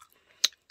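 A crispy strawberry-chocolate convenience store snack is bitten once, one sharp close crunch amid faint mouth sounds, with no talking.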